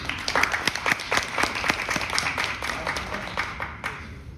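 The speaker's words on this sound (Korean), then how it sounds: "박수 먼저 해주시고" Audience clapping at a disability-awareness talk concert, a few seconds of steady, fairly close applause with distinct individual claps, moderately loud and tapering slightly at the end.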